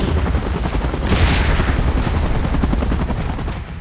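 A helicopter in the PUBG Titans Last Stand game thumps loudly and steadily with rapid rotor chop, a dense continuous beat with a brief swell in the middle.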